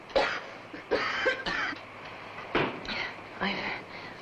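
Someone coughs hoarsely in a short series of separate rough bursts, a nagging, croupy cough that keeps returning close by with brief pauses between.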